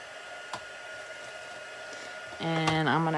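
An electric heat tool blows to melt gold embossing powder on a stamped card, heard as a steady airy whir that grows louder and tonal near the end, close by with no talk.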